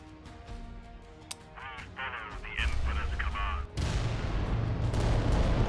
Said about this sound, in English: The volcano cannons are good.